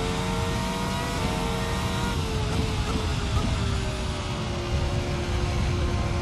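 A race car engine in a sim racing game holds a steady, loud, high-pitched drone under sustained throttle, the pitch shifting slightly as it runs down a straight, with no talk over it.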